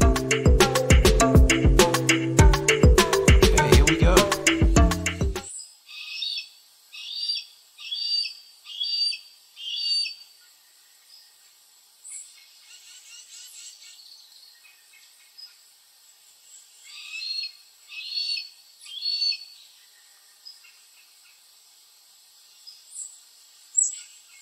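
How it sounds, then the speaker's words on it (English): A hawk calls in a wild outdoor setting, a series of short, sharp, high-pitched cries repeated in quick runs with pauses between, heard alone and fairly clear after a brief burst of loud music. "let's have a little listen to what a hawk sounds like in real life."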